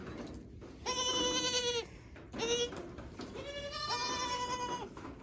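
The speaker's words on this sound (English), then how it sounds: "Oh, that's goat talk" Saanen goat bleating nearby on a rainy day, three loud drawn-out nasal bleats separated by short pauses over soft background noise.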